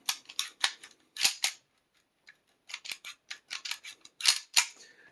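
A 1943 M1911A1 pistol, about eighty years old and loosely toleranced, is handled up close: sharp metallic clicks and snaps come in short bursts with a quiet gap between.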